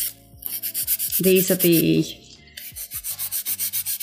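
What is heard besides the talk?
nail filing with disposable sanding file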